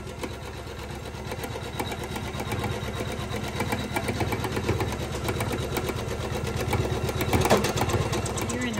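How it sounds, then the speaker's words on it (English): A Janome 500e embroidery machine sews a placement stitch for a Halloween pillow, giving a steady, rapid mechanical whirr and needle patter that runs close and continuous, with a voice talking over it. "what it's doing right now is it's putting our place stitch down"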